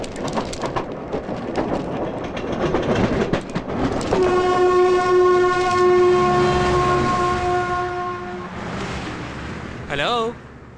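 A passing train sounds a long, loud, steady horn blast over rumbling rail clatter, then the horn cuts off as the train rolls on.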